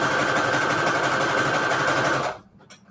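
Sewing machine running steadily, stitching Christmas fabric scraps onto a junk journal cover; a continuous close whir for over two seconds, then it stops abruptly, leaving near silence with a faint click.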